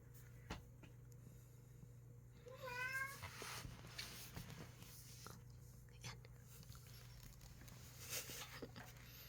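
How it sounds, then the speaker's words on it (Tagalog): A pet cat meows in a short rising series at close range, with soft rustling and a faint steady hum in the room; a person talks quietly nearby. "Yan ang isa kong cute na pusa"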